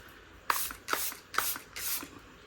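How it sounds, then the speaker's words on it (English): Four short hissing sprays from a spray bottle at a steady pace, close by, with brief quiet gaps between them. "Spraying again."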